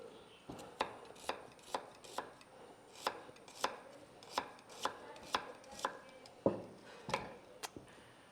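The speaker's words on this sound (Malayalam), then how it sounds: "കുറച്ച് ചങ്കായിട്ട് കട്ട് ചെയ്ത്" An onion being chopped into chunks with a knife on a board, about fifteen crisp, evenly spaced chops, close and fairly quiet, with no talk.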